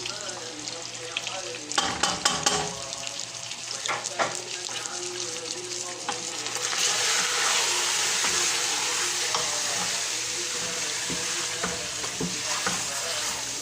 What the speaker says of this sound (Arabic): وكل شوية اقلب الدجاجة، اديها مرة يمين مرة تحت مرة فوق ومرة يمين ومرة شمال